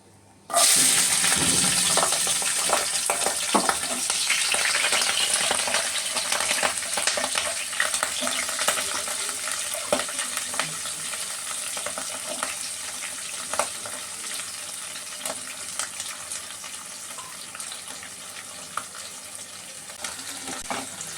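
Onion greens frying in mustard oil with whole cumin seeds burst into a loud sizzle as they hit the pan, then settle into a continuous close hiss with light crackles and stirring.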